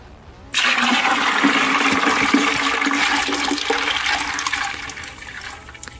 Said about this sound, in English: Now we're going to add in our brine mixture.